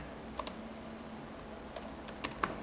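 Keys clack on a computer keyboard as a scriptwriter types a line of text, a few quick scattered strokes over a quiet room hum.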